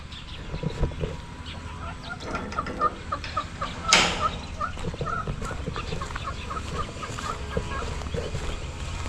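Domestic chickens on a Filipino farm cluck and call intermittently amid a busy, noisy outdoor background, with one louder burst partway through.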